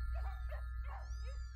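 Several short yips and barks from dogs in a cartoon pet store come in quick succession over a low background hum.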